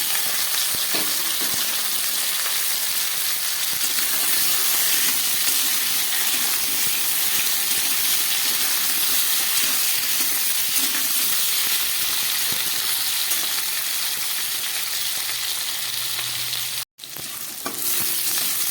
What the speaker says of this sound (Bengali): এই পটলের সঙ্গে আমি এবার কেটে রাখা আলুগুলো দিয়ে দিচ্ছি, একসঙ্গেই ভেজে নেব।